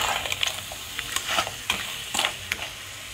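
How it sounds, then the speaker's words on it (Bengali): Crab pieces sauté in a pan for crab kosha, with a steady sizzle of frying broken by repeated scraping and stirring strokes at an uneven rhythm. "আমি ভালো করে কষিয়ে নিচ্ছি কাঁকড়াটাকে।"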